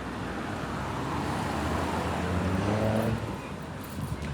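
Steady road traffic rumbles beside the old Bonny Street market, a vehicle swelling closer and passing at moderate loudness over continuous roadway hum.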